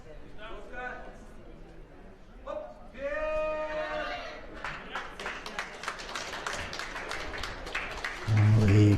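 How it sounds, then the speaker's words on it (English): Spectators at a men's -59 kg powerlifting event at the 2015 IPC European Open Championships in Eger whoop and cheer after a 17-year-old lifter's attempt, a sustained swell of crowd noise with claps, rising toward the end. "Whoops and cheers."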